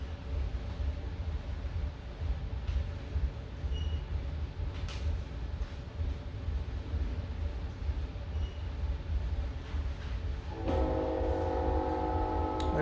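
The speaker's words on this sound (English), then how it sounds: "There's my infamous train" A train rumbles past with a steady low roar and clatter, then sounds a loud sustained multi-tone horn near the end.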